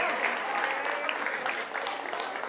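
A studio audience on its feet claps steadily and densely, a close, continuous wash of applause with no talk over it.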